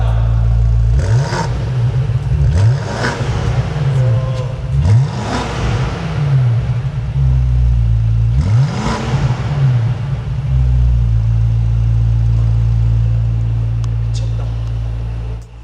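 A BMW M5 sports sedan's V8 engine revs hard several times in bursts, deep and loud up close, each rev rising and falling before settling to a rumbling idle.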